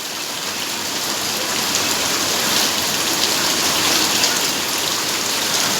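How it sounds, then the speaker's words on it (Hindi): Heavy rain pours down in Bandra as a loud, unbroken hiss of drops hitting surfaces, with no voices over it. "काफ़ी तेज़ बारिश हो रही है"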